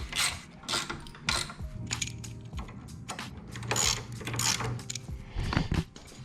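Bolts on Harley-Davidson forward controls, Loctite on the threads, being tightened down with a ratchet: repeated close mechanical clicking and clattering bursts over a low steady hum, with no talk.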